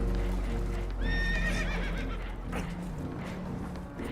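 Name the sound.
spooked horses neighing, from video game Red Dead Redemption 2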